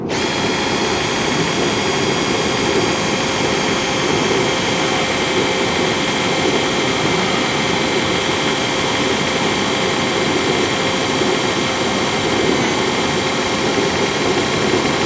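A drill bores through an aluminum horse trailer hinge into a stainless steel pin, a loud continuous high whine with steady grinding, close and unbroken for the whole stretch with no talk.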